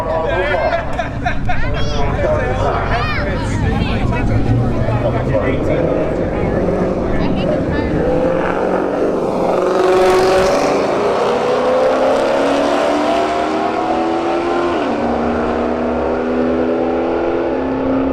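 Two Dodge Charger R/T Hemi cars drag race at Bradenton Motorsports Park, loud engines revving and climbing through gears as they launch and pull away, with an announcer talking over the roar throughout.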